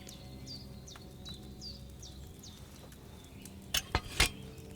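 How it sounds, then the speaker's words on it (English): Potion bubbling in a cauldron over a flame in Kingdom Come: Deliverance II, quiet steady bubbling with bird chirps in the background, then a few sharp clinks of pots near the end. "Hear that bubbling? It's boiling."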